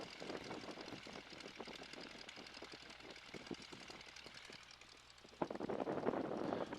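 A 1942 Boeing Stearman biplane's radial engine idles steadily during a pre-flight engine check on the ground, facing into the wind, with a rough, pulsing drone and wind noise that swells toward the end.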